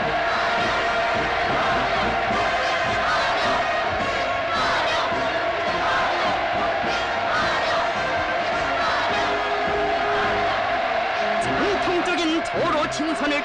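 A large crowd in North Korea cheering and chanting to welcome Russian President Vladimir Putin, a loud, dense, sustained roar of voices with a narrator speaking over it.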